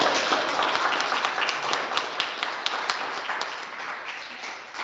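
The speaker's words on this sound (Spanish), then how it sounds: "Si pudiéramos escuchar aplausos" Audience applause after an informative talk on the COVID-19 vaccine, a dense patter of clapping with some sharper individual claps standing out, fairly close and gradually tapering off toward the end.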